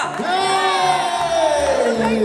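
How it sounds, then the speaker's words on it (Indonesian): A crowd at an Indonesian film gala premiere cheers and whoops loudly, with raised voices blending into a sustained, close roar for a couple of seconds. "Tepuk tangan dong"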